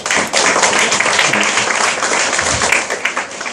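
Classroom audience of students clapping for an eighth-grade boy, a loud, close, dense burst of applause lasting a few seconds.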